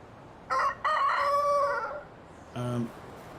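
Chickens cluck and a rooster crows on a farm in the medieval life game Medieval Dynasty, with one long crow plus a short call before it and a brief cluck afterward, all close and clear over quiet background.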